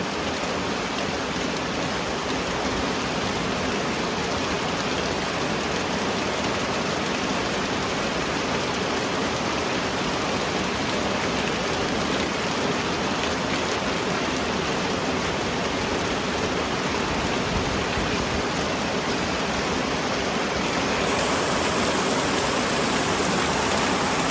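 Steady rain falls over rice fields as an even, dense hiss that continues without pause for the whole stretch, moderately loud and close, with no voices.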